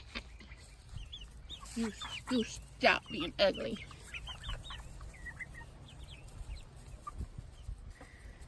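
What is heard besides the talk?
chickens clucking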